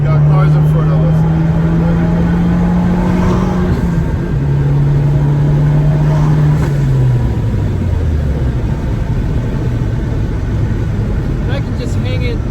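A sports car engine drones loudly and steadily from inside the cabin, its pitch holding, dipping, then dropping lower as the car eases off, with constant road and wind roar throughout.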